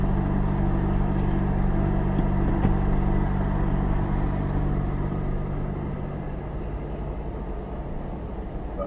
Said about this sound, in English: And that was the moment the lorry behind me came closer.